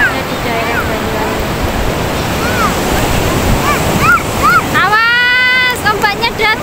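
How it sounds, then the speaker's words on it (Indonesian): Ocean waves rolling onto a sandy beach in Banyuwangi, a steady loud wash of surf and wind noise with a swelling rush near the end, and a voice speaking briefly over it. "Ombaknya datang."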